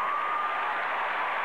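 A football stadium crowd at the 1987 Iowa Hawkeyes at Ohio State Buckeyes game roars and cheers, a steady wash of distant crowd noise with no gaps.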